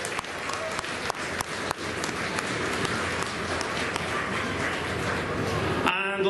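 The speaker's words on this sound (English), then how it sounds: "Round of applause for Stephenie," Applause from a theatre-style audience for a performer who played the droid ME8-D9 in a Star Wars Endor-themed show, a steady broadband patter of many hands with a few sharper claps, cut off abruptly near the end.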